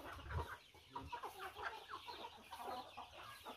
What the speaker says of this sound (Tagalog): Yung alagang manok namin, yan.